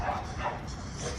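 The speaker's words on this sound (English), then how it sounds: "that's definitely a dog in the window" A dog barks behind a window at an apartment complex with rows of 2011 and 2012 Carrier air conditioners, faint and distant, a couple of brief yips over a dull outdoor hum.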